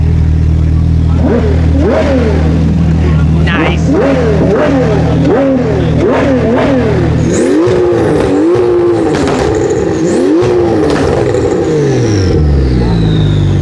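A car engine revs hard in repeated loud bursts, rising and falling in pitch, close by, with a brief spoken remark.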